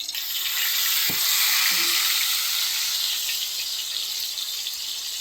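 Eggplant slices for shahi begun bhaja frying in hot oil, giving a steady, loud sizzling hiss throughout with a brief faint clink near the start and no talking.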